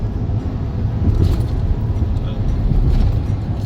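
Steady roar of cars on a busy city highway, heard from inside a moving vehicle, with continuous low engine and tyre rumble and no distinct individual passes.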